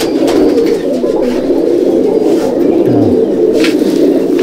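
Pigeons in a Madrasi pigeon loft in Halisahar, North 24 Parganas, coo steadily and close, a continuous low burbling chorus with no talk.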